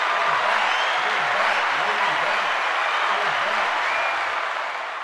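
Applause from a podcast studio or live audience, a dense steady wash of clapping that fills the whole stretch and tapers slightly at the end, with a faint low tonal wobble beneath it.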